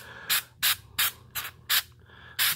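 Rubber coating sprayed onto Power Wheels toy car tires in six short, sharp hissing bursts of about a quarter second each, evenly spaced and close by, with no voice over them.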